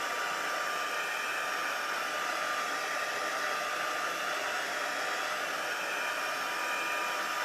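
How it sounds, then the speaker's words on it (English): A handheld heat tool blows steadily to dry 99% alcohol ink on a crafting surface, a loud, continuous broadband whoosh lasting throughout with no pauses or talk. "you can dry it quickly with your heat tool"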